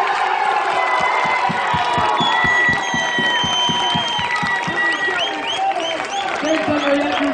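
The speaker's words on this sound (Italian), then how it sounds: "Un grande applauso per il nostro capitano" Loud crowd applause and cheering for the captain at a spring school festival, with steady rapid clapping through the whole stretch and shouts and voices over it.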